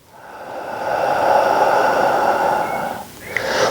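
A person exhales slowly and audibly during a seated posture stretch at a desk, a long, close breath that tails off, followed by a short second breath.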